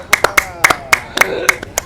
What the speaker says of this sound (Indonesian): Tepuk tangan yang meriah lagi bang